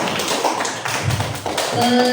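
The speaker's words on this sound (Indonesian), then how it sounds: "Tepuk tangan sekali lagi untuk semua kelompok." Students clap for their groups in a classroom lesson: uneven, fairly close hand claps with some background noise, and a brief tonal sound near the end.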